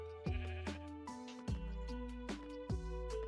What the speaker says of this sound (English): Hey, a sheep.